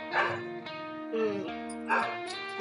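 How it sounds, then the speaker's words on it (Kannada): Several dogs bark and yelp outdoors in a few loud bursts spread over the clip, with short whimpering cries between them, clear and fairly near. "ನಾಯಿ ನೋಡ್ರಿ ಹೊರಗೆ ಹೆಂಗ್ ಅದ್ರಾಗತ್ತಾವು"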